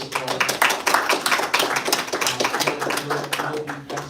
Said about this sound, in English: I would like you please to thank them all with a warm round of applause